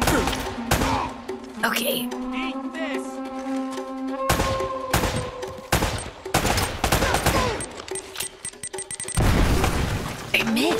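Gunfire and a bomb blast in the action game Uncharted, with sharp repeated shots and booming impacts scattered across the clip, loud and close, under game music and a brief spoken word.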